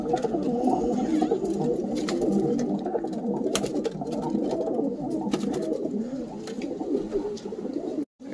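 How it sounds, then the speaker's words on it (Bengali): A pet rock pigeon at home cooing continuously in low, throaty, rolling phrases, close and clear, with a few faint clicks in the background and no speech. "এটা আমার বাড়ির গোলা পায়রা, ছোট দিয়ে পোষা আছে পায়রাটা।"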